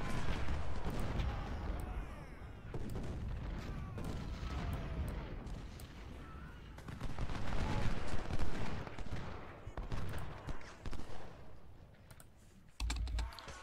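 Musket volleys and artillery fire from the video game Ultimate General: Civil War, at the Battle of Gaines' Mill, crackle in irregular bursts and rolling clusters at moderate volume, with a few sharper louder reports and no talk.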